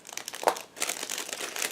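Crinkling and crumpling of a sealed plastic bag being opened while unpacking a Flyhawk 1/72 M1A2 SEP model kit, with brief sharp rustles and a louder crunch near the middle, close up and without talk.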